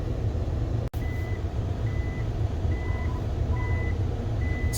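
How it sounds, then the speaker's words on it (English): Small Japanese reversing beeper on a right-hand-drive Mitsubishi Pajero GDI, giving five evenly spaced short electronic beeps over a loud, steady engine idle rumble, with a brief dropout near the start. "It's funny, that little Japanese reversing beep that's in all of the right-hand drives."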